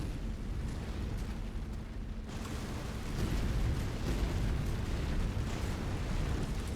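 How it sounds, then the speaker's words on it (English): A big explosion in MechWarrior 5, a deep rumbling blast that roars on for several seconds and swells louder partway through, heavy low-end debris noise with no voices over it. "That was a big explosion."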